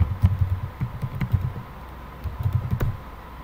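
Keys clack on a computer keyboard in short, uneven bursts of close typing, separated by a brief pause, with no speech.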